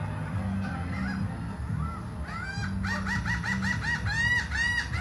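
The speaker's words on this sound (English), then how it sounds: "The bird, you laughing at me?" Goose honking in a series of nasal calls, several short honks clustered in the second half, fairly close, over a steady low rumble of background noise.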